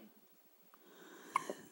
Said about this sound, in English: poor thing. Hiccups.